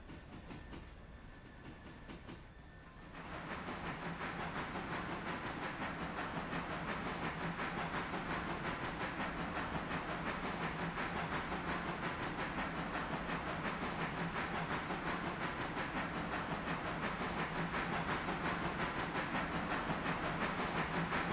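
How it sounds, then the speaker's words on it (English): Loaded coal train easing into a curve on the run to Robinson Gap coal mine, with a broad steady rumble and hiss of wheels and cars rolling continuously, growing louder after a few seconds and holding steady, with no talk. "So we ease into the curve here."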